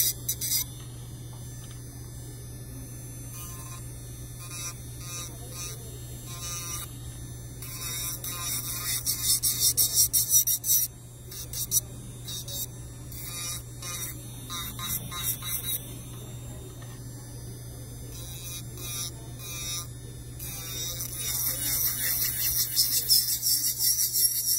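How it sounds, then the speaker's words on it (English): An electric nail drill whirs and grinds against an acrylic nail in uneven bursts, a high buzzing rasp close by over a low background hum. "pay attention with how I use the drill too, like the way I hold the drill"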